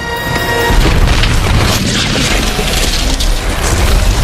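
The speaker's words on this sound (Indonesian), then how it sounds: "Akhirnya Algrim pun tewas tersedot bom gravitasi." A gravity bomb explodes in a Thor film, a loud, sustained booming rumble with a crashing, roaring wash that holds steady for several seconds, with no voices over it.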